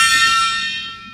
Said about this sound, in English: That gong is going to cause me to lose my hearing.